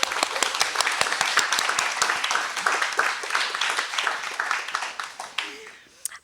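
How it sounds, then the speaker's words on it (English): Audience applause for two speakers at a university talk, distinct crisp claps in a lively, moderately loud round that tapers off toward the end, with a voice briefly audible as it dies down. "please join me today in giving a round of applause in advance to our two amazing speakers"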